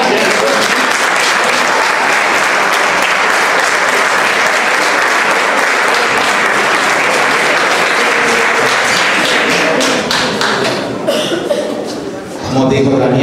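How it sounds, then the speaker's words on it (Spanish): Loud, dense audience applause for a community music band at a Santa Cecilia concert hall performance in Puntallana, sustained at full strength before thinning out and tapering near the end. "vamos a darle ese fuerte aplauso"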